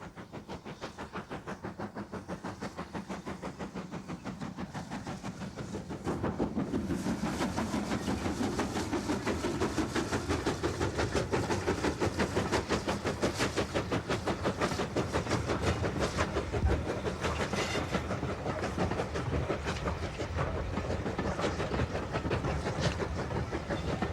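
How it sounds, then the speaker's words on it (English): GWR steam locomotive 5619 hauling green Southern Region-style coaches on the Isle of Purbeck railway, a loud continuous rumble with rhythmic clickety-clack of wheels over rail joints, growing heavier partway through, no voices. "Great Western liveried 5619 is seen on the Isle of Purbeck's railway with green Southern Region-style coaches"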